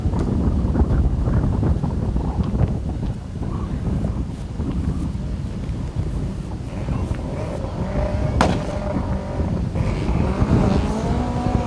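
A race car runs at a 2018 autocross championship in Thailand, its engine a loud, continuous roar heard up close under heavy wind buffeting on the microphone.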